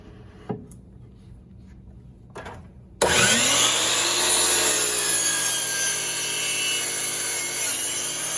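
A saw cuts a scarf joint into a wooden ukulele neck board; after a few quiet seconds with a couple of soft knocks, the blade roars to life and runs loud and steady to the end.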